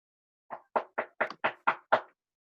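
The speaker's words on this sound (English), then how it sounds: "What's he that knocks as he would beat down the gate?" Seven sharp, evenly spaced knocks on a gate during a stage play, loud and close with silence between each blow and no talking.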